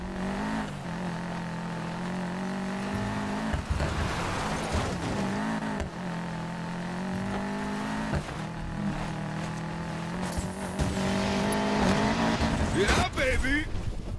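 A Nissan Fairlady drifts through a drift zone in the racing game Need for Speed Payback, its engine droning steadily throughout with tire screech and revving surges near the end, while someone talks over the game audio.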